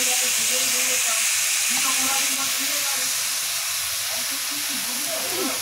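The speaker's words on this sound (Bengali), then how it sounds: "একটু ভেজে ভেজে নিব, বেশি ভাজবো না, হালকা ভেজে নিব" Gobindobhog rice with salt fries lightly in a pan with a steady, even hiss, while a voice talks over it.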